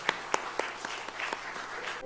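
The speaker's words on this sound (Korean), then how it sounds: "박수 주시기 바랍니다." A church congregation applauds at an elder's installation ceremony: a soft, continuous patter of many hands, punctuated by a few louder, regularly spaced claps standing out near the front.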